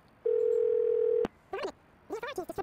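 A phone call placed in the game Do Not Feed the Monkeys: one long steady tone lasting about a second stops with a sharp click, followed by short bursts of a voice on the line.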